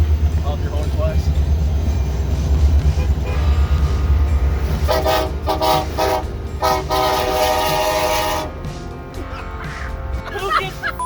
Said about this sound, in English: Who gets the fucking train to toot its fucking horn, dude?